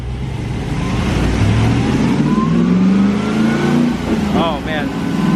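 A hot rod car accelerates hard in fourth gear, its engine note climbing steadily in pitch as a loud, close, continuous roar from inside the car, with a brief voice near the end.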